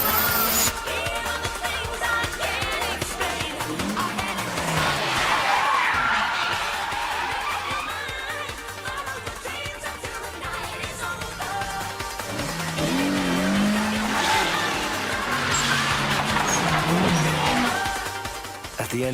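Toyota Levin and 86 race cars drift in the Initial D video game, a sustained loud engine roar with squealing tires rising and falling, a voice speaking over it.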